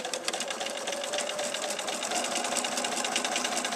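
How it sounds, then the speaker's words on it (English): A sewing machine hums continuously as it sews along fabric, a close, even mechanical purr with rapid needle ticking and no talking. "I'm going to sew back down on the other side."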